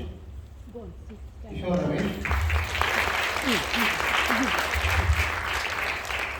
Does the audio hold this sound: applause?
yes